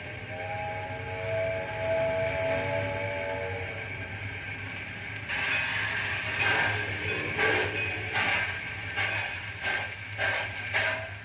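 A steam train gets underway, opening with a sustained whistle tone before the engine starts chuffing in steady, heavy bursts that grow more regular, loud and close, with rattling mechanical noise underneath.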